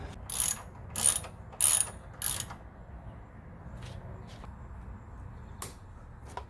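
Ratcheting on a 10mm bolt on a SAAB turbo bracket: four loud bursts of quick clicking close by, then quieter scattered clicks and a faint hum.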